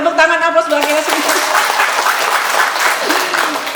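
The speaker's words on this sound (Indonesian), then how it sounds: "Ya, tepuk tangan aplaus bagi kita semua." An audience at a PKK community gathering breaks into loud, sustained applause. Dense clapping fills the room, with a voice speaking over it at the start.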